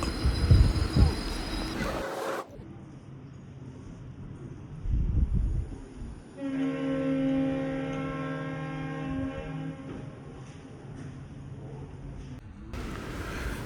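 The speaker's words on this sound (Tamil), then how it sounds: "அந்த ஸ்டேஷன்லேருந்து நம்ம ட்ரெயின் வந்து கிளம்பிடுச்சுங்க" A train pulls out of Shravanabelagola station with a steady rolling rumble and a sustained, tonal drone building midway, mid-distance and continuous. Voices sound briefly at the start and end.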